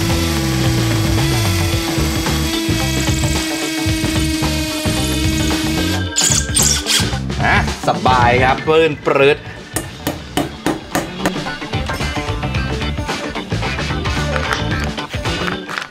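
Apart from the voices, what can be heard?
cordless hammer drill drilling concrete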